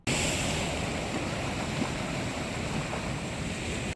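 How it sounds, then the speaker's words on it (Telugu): Surf at Thotlakonda Beach in Vizag, a steady, loud wash of waves mixed with heavy wind buffeting the microphone, continuous from start to finish. "వైజాగ్ లో తొట్లకొండ బీచ్ అనేది మోస్ట్ అండర్ రేటెడ్ బీచ్."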